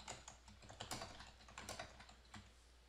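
Someone types a level name on a computer keyboard: quick, soft, irregular key clicks in a short burst, faint and close.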